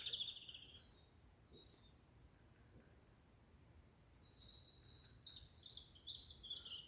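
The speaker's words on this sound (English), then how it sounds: "the solitary sort of song of the robin that's to my right and your left" A robin sings in short, high warbling phrases against a quiet woodland background, sparse at first and then busier and a little louder.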